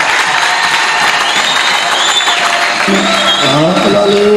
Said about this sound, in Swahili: Makofi yanatosha kwa leo.